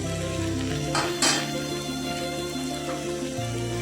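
Paneer goes into a hot frying pan in a home kitchen while cooking matar paneer, giving a steady close sizzle with brief stirring clatter, no talking.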